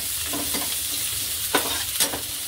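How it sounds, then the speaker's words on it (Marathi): Chopped onion hits hot oil with garlic and curry leaves in a pan, a steady close sizzle broken by a few soft stirring scrapes, with no talk. "आता लसणाचा पण कलर चेंज झालाय, तर याच्यात टाकूया आपण कांदा"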